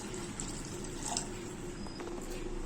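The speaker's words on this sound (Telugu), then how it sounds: "ఈ రైస్ లో ఒక 1 లీటర్ వాటర్ పోసుకొని" Water pouring into a pot of rice and mutton curry for dum biryani, a continuous splashing, trickling flow with faint drips, steady and close throughout, no talking.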